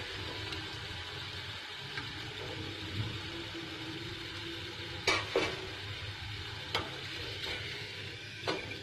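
Khoya-filled wheat-flour gujiya frying in hot oil give a steady, moderate sizzle with a few sharp clinks and scrapes of a utensil near the end. No one speaks.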